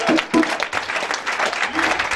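A church congregation applauds to acclaim the Lord, giving a dense clatter of clapping at moderate distance, with voices rising through it.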